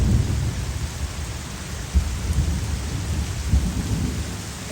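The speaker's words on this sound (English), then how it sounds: "Look at that rain coming down there." Heavy rain pouring down during a thunderstorm, a dense steady hiss of rainfall with deep rumbling thunder rolling underneath and a couple of louder low swells.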